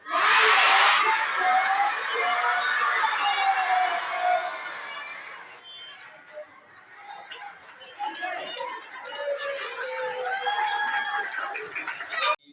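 School students in Indonesia shout together loudly as a crowd on a count of three, a sustained burst of children's voices that fades into scattered chatter and cheering.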